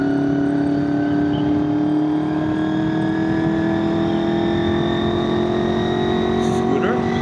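A big scooter's engine drones steadily nearby at night, its pitch slowly rising as it passes, with wind noise throughout, heard from a riding motorcycle.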